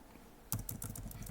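Computer keyboard keys tapped in a short burst of about eight quick, evenly spaced clicks, close and clear, starting after a brief quiet moment while a password is typed.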